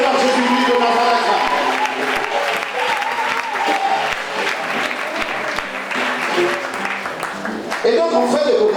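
Congregation at a church gathering applauding and cheering, dense clapping with voices mixed in, lasting throughout and swelling near the end.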